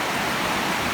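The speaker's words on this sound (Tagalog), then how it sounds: "lumalakas na ang ulan" Heavy rain in Manila's Quiapo and Binondo area, a dense, even rushing hiss filling a short moment, loud and continuous with no voices.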